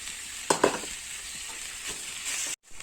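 Fried rice sizzles in a pan while a few sharp spatula scrapes and stirs cut in early, the hiss carrying on until a brief drop near the end.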